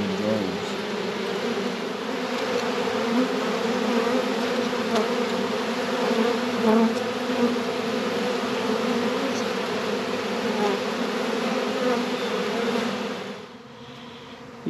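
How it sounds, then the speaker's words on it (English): A dense swarm of honeybees fills the air outside a hive's front porch, a loud continuous droning hum holding steady for about thirteen seconds before easing off near the end. "the sky is full of bees"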